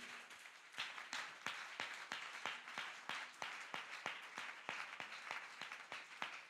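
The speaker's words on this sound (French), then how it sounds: "Acclamons très fort le Seigneur Jésus." Congregation in a church clapping steadily in rhythm, a dense run of sharp claps sustained at an even pace throughout, close and fairly loud.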